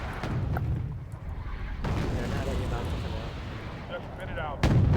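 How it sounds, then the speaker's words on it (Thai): Heavy artillery booms from the wargame Wargame: Red Dragon, two sharp blasts with rumbling tails, while a voice talks over the action. "อันนี้ปืนใหญ่แล้ว"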